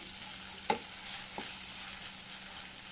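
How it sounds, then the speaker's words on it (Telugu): Mint leaves cooking in a pan for pudina pulao are stirred, giving a couple of soft utensil scrapes over a faint, steady sizzle. "కలిసిపోయేలాగా తిప్పి. పుదీనా ఆకులు కూడా కొంచెం మగ్గిపోవాలి."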